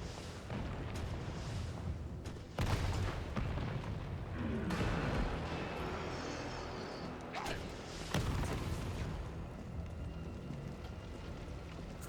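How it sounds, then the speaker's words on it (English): A rocket launcher fires in the Resident Evil video game, with several heavy, booming blasts spaced a few seconds apart over continuous rumbling game noise. "A rocket launcher?"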